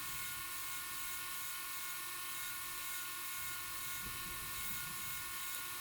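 A die grinder fitted with a carbide burr whines continuously at high pitch while cleaning the eye of a forged rounding hammer, a steady close, even tone with some grinding texture underneath.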